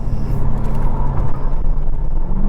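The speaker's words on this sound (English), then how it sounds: "that glorious V8 sound coming out of corner exit is so fantastic with this engine" Jaguar F-Type R V8 engine pulling hard out of a corner, a deep loud continuous rumble heard close up with a throaty growl that swells and wavers as the car accelerates, no talking.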